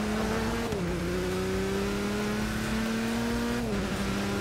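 Race car engine in Forza Motorsport 6 at Le Mans on the Mulsanne straight, a loud, steady high drone with two quick upshifts where the pitch drops and climbs again, with no talking over it.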